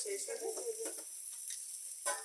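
Spices and olives for olive pickle frying in mustard oil, a quiet low sizzle with a few soft stirring scrapes, faint and close, with no speech.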